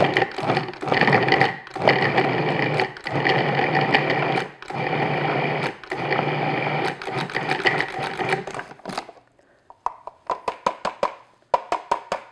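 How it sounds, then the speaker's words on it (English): Food processor pulsing pie dough into coarse crumbs for a cranberry raisin pie, loud whirring bursts separated by short gaps, ending in a quicker series of brief stuttering pulses. "use a food processor. So I'm just going to pulse this until I get like coarse crumbs."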